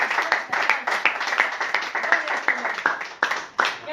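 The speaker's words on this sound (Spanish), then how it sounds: "Démosle un fuerte aplauso al Señor." Church congregation clapping in praise, a steady run of hand claps filling the room with voices mixed in underneath.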